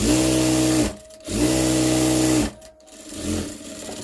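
Sewing machine running at high speed while stitching a women's blouse in a tailoring class, two long loud whirring bursts with brief pauses between them, then a shorter run at the end.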